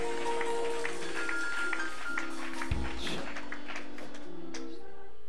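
A church congregation claps along during a preacher's call-and-response, scattered rhythmic hand claps mixed with voices and room noise, fairly close.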